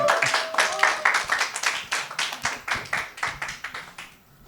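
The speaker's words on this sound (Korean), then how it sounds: "우리 박수로." Clapping from a church high school youth group, a burst of roughly a dozen sharp, rhythmic claps from a small group, close and fairly loud, fading out at the end with no talking.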